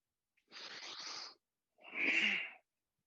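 Two vigorous exhalations forced out through the nose during a yoga core exercise, each a breathy rush lasting close to a second, separated by a short pause, close and clear with no talk.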